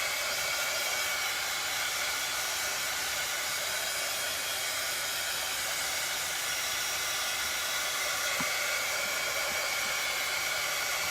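A hair dryer blows a steady, even hiss on a Valentine craft piece, running continuously at close range with no talk.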